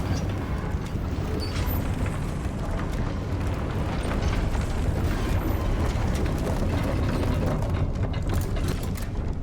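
A lift is repaired with the Reparo spell in Hogwarts Legacy: a continuous grinding rattle of gears and ratcheting mechanisms, loud and steady throughout with no voices.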